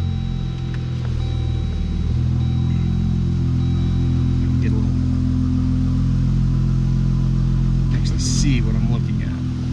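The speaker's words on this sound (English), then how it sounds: "I'm gonna back up into my garage a little further." A Jeep Wrangler JLU Rubicon idles with a steady, loud low engine rumble as it backs slowly into a garage, someone talking over it throughout.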